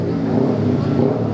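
A Yamaha Mio J scooter with a newly set-up engine revving steadily, a loud continuous buzzing drone that stays close and even for the short stretch, with no talk.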